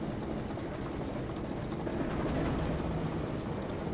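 A diesel locomotive engine in the Railroader video game rumbles steadily after starting up, a dense, low, continuous drone that holds at an even loudness throughout with no voices over it.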